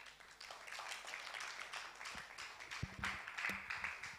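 Audience applause at a book launch forum, a broad steady patter of many hands clapping at moderate distance, with a few sharper individual claps standing out near the end.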